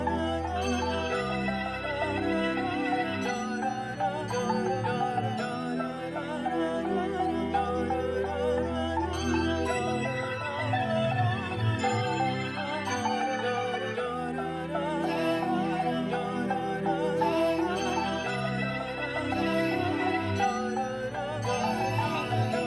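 A music sample plays back on an MPC Studio, a sustained layered tonal piece with steady bass and shimmering upper harmonics that runs unbroken and alone, with no talking.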